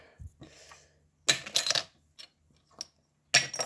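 A beer bottle cap tossed during a cap-throwing competition round strikes a target with a few sharp metallic clinks and rattles, brief bright impacts separated by quiet gaps.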